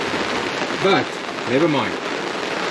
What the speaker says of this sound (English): Got a bit of a problem with the rain making a dam in my rally tent